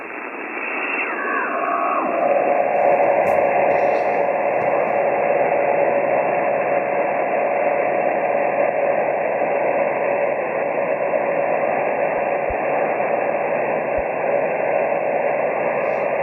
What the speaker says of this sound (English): So this might be the power supply noise.